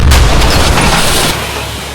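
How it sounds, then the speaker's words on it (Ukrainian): A single loud artillery gun shot: a deep, heavy boom that rolls out and slowly fades. "Гармата! Постріл!"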